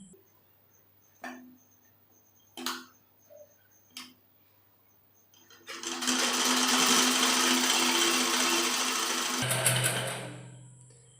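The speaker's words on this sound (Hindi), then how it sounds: "अब ये इसको सीधा करके सिलाई लगाएंगे" A sewing machine stitches a straight kurti seam, preceded by a few short separate clicks and bursts, then running steadily and loudly for about four seconds before slowing and stopping.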